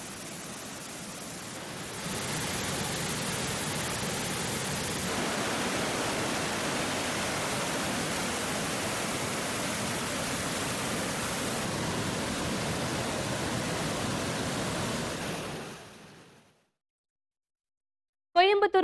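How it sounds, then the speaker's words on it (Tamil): Water pours steadily at Panchalinga falls during heavy rain, a loud continuous broadband roar that spills over safety barriers, holding for about fifteen seconds before cutting to silence. "பஞ்சலிங்க அருவியில் பாதுகாப்பு தடுப்புகளை தாண்டி தண்ணீர் விழுகிறது"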